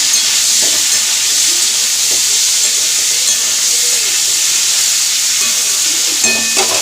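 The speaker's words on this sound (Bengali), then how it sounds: "ফুলকপি ভাজছি" Cauliflower fries in a pan with a loud, continuous sizzle and hiss, steady throughout and close by, with faint stirring clatter and no talk.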